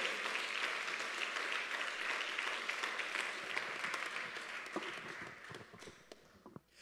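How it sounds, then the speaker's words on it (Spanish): A church congregation breaks into sustained applause of praise, a steady wash of many hands clapping that slowly fades and thins out to a few scattered claps. "Ofrécele un aplauso de alabanza al Señor."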